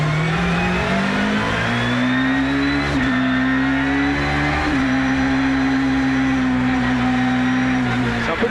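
Peugeot 306 Maxi rally car, ultra-light, engine revving hard while driving on a course, a loud, continuous mid-pitched roar that rises and holds steady with slight dips as the throttle shifts.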